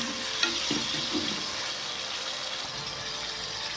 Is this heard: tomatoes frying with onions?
yes